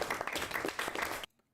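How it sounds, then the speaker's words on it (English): A game sound effect of a small group clapping, a brisk burst of applause lasting about a second before cutting off abruptly to silence. "Clapping."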